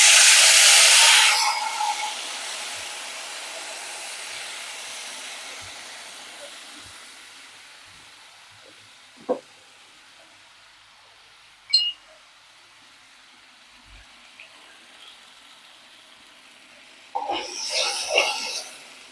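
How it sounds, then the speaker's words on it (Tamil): Tamarind water boiling in a pot in a home kitchen for tomato rasam: a faint, steady hiss with louder bursts of bubbling noise at the start and end and a few small clicks in between, no voices. "இப்போ பாருங்க புளி தண்ணி நல்லா கொதிக்குது"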